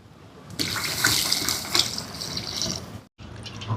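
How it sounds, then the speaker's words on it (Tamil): Coconut milk pours into a pan of egg curry, a loud, splashy liquid stream that begins abruptly, runs for a few seconds, cuts out briefly, then resumes. "இனி தேங்காய் பால் சேர்ப்போம்."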